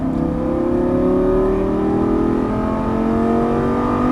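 Lamborghini Gallardo LP550-2 pulling hard on a race track, its engine note climbing steadily in a loud, continuous acceleration with rising harmonic tones and no talk over it.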